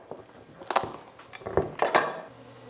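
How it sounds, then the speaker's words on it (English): A sharp kitchen knife works into a hard pumpkin, producing a few scattered close taps, scrapes and cracking crunches at irregular intervals, fairly quiet with no talk. "You just make a little hole in the pumpkin with the point of your knife to get it started."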